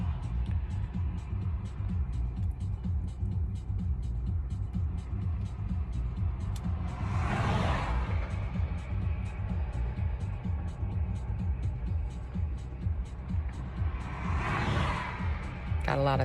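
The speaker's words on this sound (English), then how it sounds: "Got a lot of traffic here suddenly." Road traffic going by outdoors, with a low steady rumble and two vehicles passing close a few seconds apart, each rising and fading as a brief whoosh.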